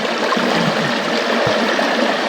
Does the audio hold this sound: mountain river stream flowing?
yes